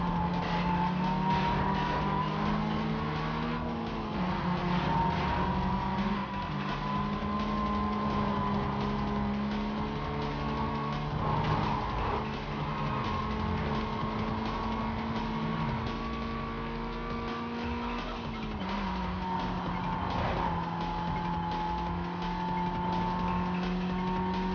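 Cars race in the Need for Speed Most Wanted (2005) video game, with a continuous loud engine drone, steady and then shifting as the car speeds along, with no clear crash impact standing out.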